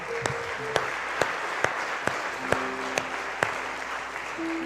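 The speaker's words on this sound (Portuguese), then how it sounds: "Pode aplaudir ao Senhor." A church congregation applauds at the close of a worship service, a steady bed of clapping under a string of sharp, evenly spaced loud claps roughly twice a second, with faint sustained tones from voices or an instrument.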